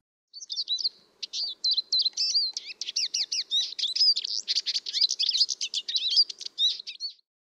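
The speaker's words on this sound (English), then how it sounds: "Siskin." A siskin sings a long, fast, twittering song of high thin chirps and buzzy trills, delivered continuously for several seconds, clear and close with no other sounds.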